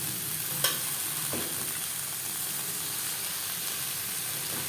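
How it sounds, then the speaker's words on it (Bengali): Sliced onions fry in hot oil in a pan, giving a steady close sizzle, with a sharp utensil knock early on as they are stirred. "পেঁয়াজ অবশ্যই লালচে করে ভেজে নেবেন"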